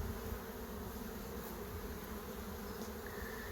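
Honeybees buzz continuously in an open hive colony, a dense, steady drone of many insects close by, with no talking.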